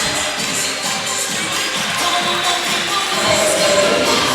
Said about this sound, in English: Crowd on their feet, clapping this one out in support of such a formidable effort